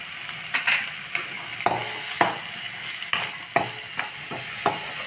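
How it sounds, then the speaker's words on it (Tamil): Boiled cowpeas tipped into a pan of sizzling tomato and onion, with a steady fry hiss broken by repeated scraping stirs and soft clinks of a spoon against the pan, close and clear, no talking. "வேக வச்ச காராமணியை எடுத்து போட்டுடலாம்"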